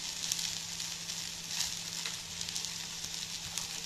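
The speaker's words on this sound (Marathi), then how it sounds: "चांगली तेलामध्ये परतून घेणार आहेत आपण हे, आणि बारीक गॅसवर परतायचे हे" Capsicum sautés in oil in a pan over a low gas flame, producing a soft, steady sizzle with light crackles, fairly faint and without talk.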